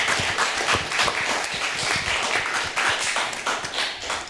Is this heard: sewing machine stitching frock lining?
no